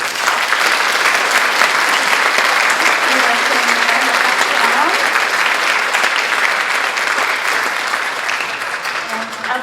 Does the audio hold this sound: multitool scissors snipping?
no